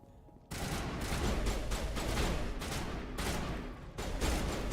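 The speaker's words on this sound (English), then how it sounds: "What are you guys shooting at?" Dense, rapid bursts of gunfire in the Mass Effect 1 video game, loud and continuous with several overlapping shots and brief dips, and no voices over it.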